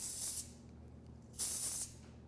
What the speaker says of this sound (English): you're gonna feel those instant properties of it being a bit more of a liquid spray